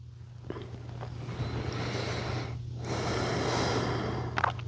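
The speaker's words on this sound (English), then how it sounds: "breathing that deep breath like we started, deep in through the nose, out through the nose or mouth" Slow, deep breaths are drawn in through the nose during a yin yoga stretch, each long airy inhale and exhale close and steady over a constant low electrical hum.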